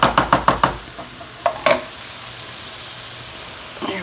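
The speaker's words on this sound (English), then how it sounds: "I'm going to start adding the tomatoes and the kale" Canned diced tomatoes and kale going into a pan, a quick run of sharp knocks and taps followed by a couple of louder thuds, then a low steady sizzle.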